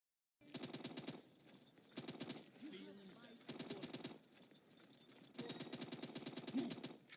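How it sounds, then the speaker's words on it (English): Automatic weapon fire in the shooter game Q Clash comes in several rapid bursts with short gaps between them, loud and close, with a brief other game sound in the middle. "I stop retreating to take a few more shots"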